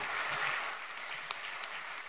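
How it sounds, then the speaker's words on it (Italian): Crowd applause at a political rally in Milan on an anti-euro tour, a moderate, even patter of many hands clapping at some distance, with one sharper clap standing out midway. "il primo applauso è per voi e per quelli che ci stanno sentendo da casa"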